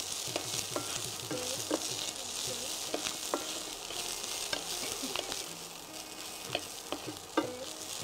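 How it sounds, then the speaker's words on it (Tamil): Tender green beans are sautéed in a pan for an Ayurvedic recipe. A steady, close sizzle carries repeated spatula scrapes and clicks, and no one speaks. "இப்போ இதையும் நல்லா வதக்கிக்கலாம்"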